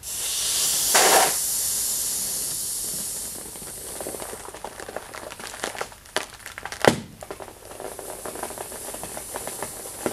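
A four-sided foil balloon is filled through a tilt nozzle in a warehouse, with a steady loud hiss of gas that sputters and varies, broken by a sharp crinkle of the balloon material.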